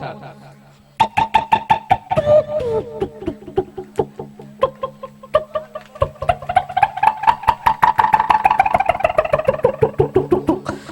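A voice mimics a tractor engine running out of fuel, with a rapid chugging putter that slows and uneven pulses trail off, close and loud.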